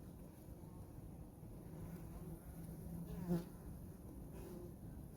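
Honeybees buzz softly and continuously around an open hive frame as the queen is located, a faint steady drone with one brief louder pass of a bee close by.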